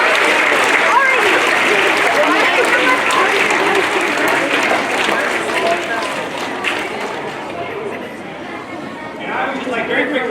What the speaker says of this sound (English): A big applause and a welcome to ACS to Ari Thorstad.